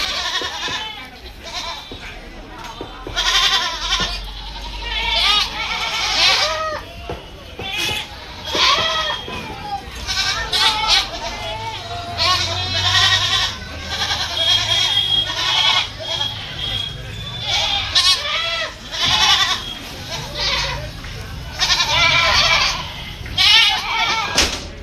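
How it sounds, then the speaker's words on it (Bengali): Goats bleat repeatedly at a busy goat market, a chorus of loud, wavering cries from several animals overlapping in quick bursts, with crowd chatter and voices running underneath throughout. "আপনাদেরকে একটু ছাগলের কান্নাকাটি শোনালাম"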